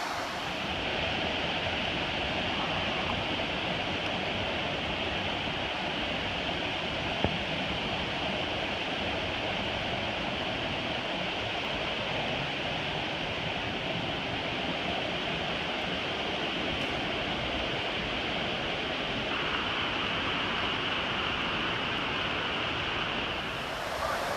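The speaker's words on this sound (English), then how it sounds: "Waterfall's looking good." Waterfall along the Fiery Gizzard Trail, a steady broadband roar of falling water that holds constant and fairly loud throughout with no talking.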